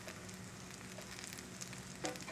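Potato pancakes made from leftovers sizzle and fry steadily in a pan, a close, continuous crackle with a brief scrape or bump near the end as they are flipped.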